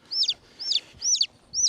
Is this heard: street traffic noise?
no